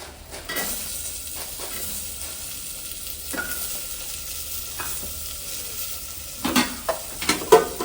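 Onions sauté in a pan before tomato goes in, making a steady sizzle with occasional stirring scrapes. A cluster of sharp utensil knocks against the pan closes the clip.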